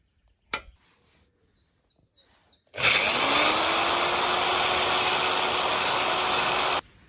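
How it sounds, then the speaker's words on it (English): A few faint clicks and taps, then a power drill starts up and whines loudly and steadily for several seconds while drilling a hole in a boat trailer, before stopping abruptly. "I need to drill a new hole"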